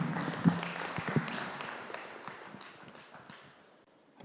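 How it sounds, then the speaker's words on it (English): Audience applause in a morning conference session on access to funding: a burst of clapping that starts fairly close, then thins and fades away over about four seconds. "Can you please give yourself a round of applause?"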